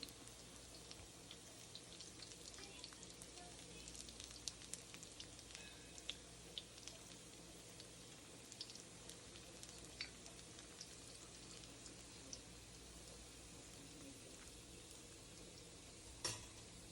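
Mung dal and besan dahi bade fry in a home kitchen, a faint, steady crackling sizzle of oil with scattered small pops and a sharper spatter near the end.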